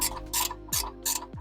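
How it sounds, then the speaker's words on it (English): Ratchet wrench working loose 10mm bolts on the metal brake cover of a 1996 Honda CRX Del Sol, giving a few short bursts of close, crisp clicking with brief pauses between strokes. "I then proceed to remove the two 10mm bolts holding this metal cover in place"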